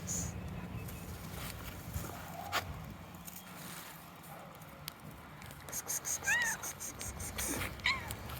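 A red cat meows a few times while walking outdoors on a sunny January day, short rising calls near the end over steady outdoor background noise and light pattering footsteps.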